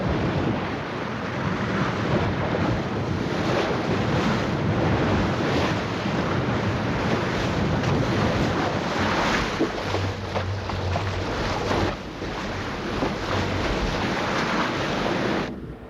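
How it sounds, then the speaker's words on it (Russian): A stormy sea surges and crashes outside a ship, a continuous loud roar of wind and waves with gusty swells and no voices. "Там снаружи бушует море"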